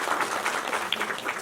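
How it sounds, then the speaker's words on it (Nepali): Crowd clapping at a senior citizens' association annual general assembly, a dense, steady patter of many hands sustained throughout without any voices. "त्यसको लागि एकपटक जोरदार फेरि ताली बजाइदिनु"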